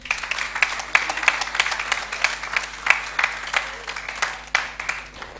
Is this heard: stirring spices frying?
no